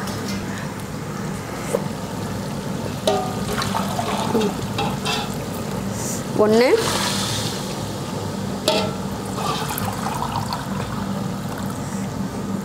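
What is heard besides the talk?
pouring water into a rice pot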